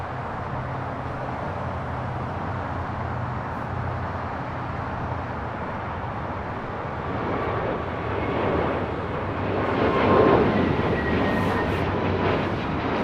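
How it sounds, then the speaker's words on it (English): JetBlue Airways Airbus A321neo taking off from LAX on the south side, bound for JFK: a steady broadband jet roar that builds gradually, swelling louder toward the end as it nears and passes. "Next takeoff here on the south side is JetBlue Airways Flight 624, heading to JFK"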